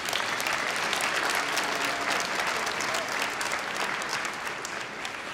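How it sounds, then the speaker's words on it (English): A crowd at an under-30 awards ceremony in Oklahoma gives a dense, sustained round of applause, steady and loud throughout with faint voices mixed in. "let's give each other a round of applause"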